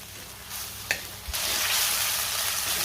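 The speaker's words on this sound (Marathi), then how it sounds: "या वाटणाला सुद्धा चांगलं तेल सुटेपर्यंत मी वाटण परतून घेणार आहे" Ground spice paste fries in oil in a pan for chicken sukka, a steady close sizzle that jumps louder after a light clatter partway through and then holds as a dense, even hiss.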